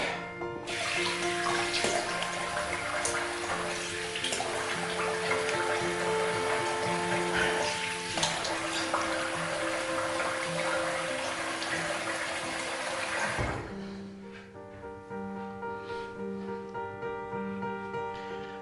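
Tap water runs steadily for about thirteen seconds while a shaving brush is rinsed at a sink, then shuts off abruptly, leaving quieter dripping and handling sounds.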